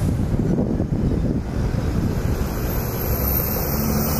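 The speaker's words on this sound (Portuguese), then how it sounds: "Acompanhando aqui a decolagem desse Avianca, olha que bonitão." An Avianca A320 airliner takes off at Guarulhos airport, heard as a loud, broad continuous roar mixed with heavy wind buffeting on the microphone, with no talking.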